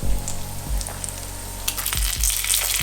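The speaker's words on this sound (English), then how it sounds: "Just give it a good mix and let the sage almost wilter down from the heat of the pan." Sage leaves frying in butter in a hot pan, a steady close sizzle with a few sharp crackles and low thumps from stirring, no voices.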